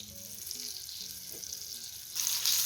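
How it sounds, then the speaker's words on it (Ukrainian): Zucchini slices dredged in flour and egg fry in hot oil in a pan, giving a steady close sizzle and crackle that swells into a louder, brighter hiss near the end. "перевертаємо і далі досмажуємо до повної готовності цукіні"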